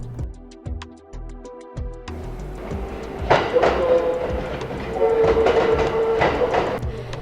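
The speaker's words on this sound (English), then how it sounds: "As the subway in this video moves, it causes noises or vibrations." A subway train rumbles along with rhythmic clicking over rail joints at first, then a louder rolling roar and a sustained squeal from the wheels.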